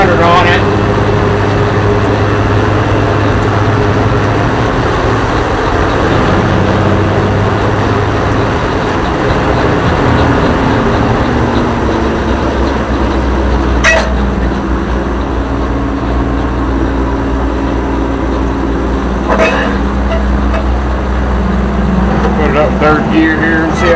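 An Oliver 525 tractor engine runs steadily near 2100 rpm during governor testing, a continuous loud low drone with a few sharp knocks, and voices talk over it.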